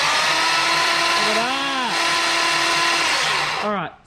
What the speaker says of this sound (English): It's a big drill.